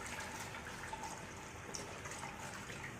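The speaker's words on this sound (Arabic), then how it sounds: "ودي ميه فتره كده، ميه دافيه قوي" Warm water poured into a bowl for homemade Egyptian farmhouse wheat bread dough, a steady close trickling and splashing that runs continuously without a break, with no voices.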